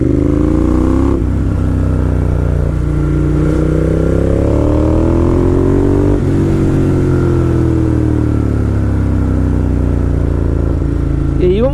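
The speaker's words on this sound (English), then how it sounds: "Think about loud exhaust. People hear you coming" Loud, throaty motorcycle engine rumbling and rising and falling in pitch as it revs, close by, with a voice talking over it.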